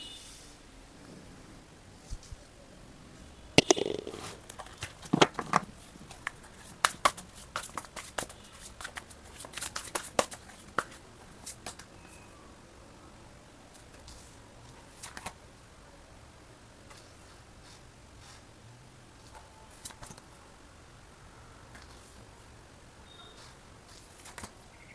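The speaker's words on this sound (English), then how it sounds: "Let's shuffle your card." Tarot cards being shuffled by hand in a quiet room, with bursts of crisp riffling and tapping clustered early, then sparser occasional clicks fading out.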